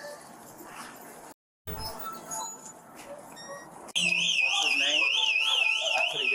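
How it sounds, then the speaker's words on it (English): Alarm going off inside a 7-Eleven store: a loud warbling electronic siren cuts in partway through and wails continuously, after a stretch of background chatter and shuffling. "why's the alarm going off all of a sudden now?"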